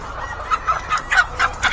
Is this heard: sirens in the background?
no